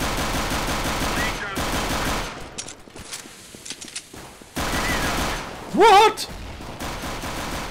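Gunfire in Counter-Strike: Global Offensive on the de_Inferno map: loud, dense bursts of automatic shots at the start and again later, with a short quieter stretch between, plus a brief spoken word near the end.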